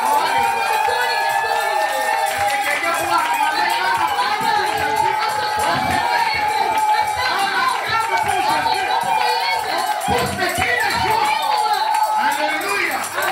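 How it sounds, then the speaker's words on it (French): Church congregation at a thanksgiving service cheering and acclaiming the Lord, a crowd of many voices shouting and calling out together in a continuous, loud swell filling the hall. "Maintenant, j'aimerais qu'on puisse acclamer"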